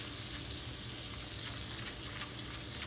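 Garlic frying in oil on a stovetop set to medium-high, a steady, dense sizzle and crackle filling the whole stretch without pause, close and moderately loud with no talking.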